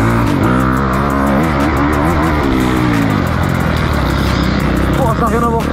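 A Honda motorcycle engine revs and climbs through gears, rising and falling in pitch, loud and close, with a voice briefly talking over it.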